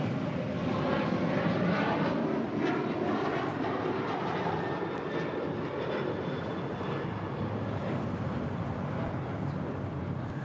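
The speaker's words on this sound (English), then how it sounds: "Alaska flight 1220 coming in from Seattle on a MAX 9 in the San Francisco Giants livery." An Alaska Airlines Boeing 737 MAX 9 arriving at LAX from Seattle, heard as a loud, steady jet engine roar with a broad rushing drone that holds for the whole stretch, with no talking.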